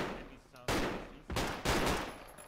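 Gunfire in the video game Project Reality, with several loud bursts of shots in quick succession at close range, separated by short gaps.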